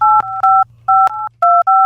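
A telephone number is dialed on a keypad, producing a quick series of loud dual-tone beeps over a low background hum, each tone short and separated by brief gaps.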